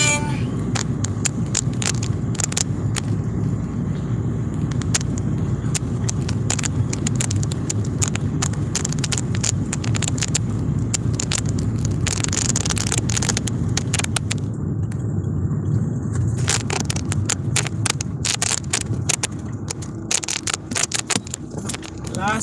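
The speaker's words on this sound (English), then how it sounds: "Driving." A car drives through Seaton Village in Antigua in the early morning, a continuous close road rumble and engine drone with faint rattles inside the cabin and brief voices over it.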